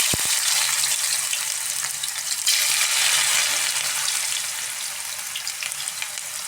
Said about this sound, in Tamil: இப்போ நம்ம இதை ஃப்ரை பண்ணுறோம்.